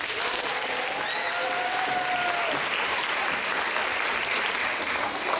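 Steady audience applause at a live jazz concert welcoming the trumpeter, dense and continuous throughout with a few faint cheers on top.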